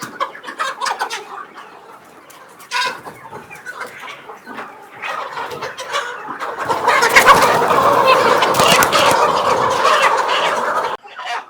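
Sonali chickens cluck and squawk close by, growing into a loud, busy flock chorus with scattered calls overlapping.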